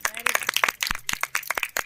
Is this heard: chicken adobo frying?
no